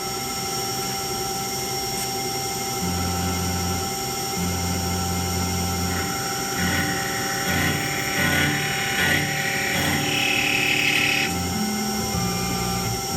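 A Tormach CNC mill's steady whine and hum with rising and falling tonal screeches as a 1/4 inch end mill bites into metal, continuous and close, with no talking.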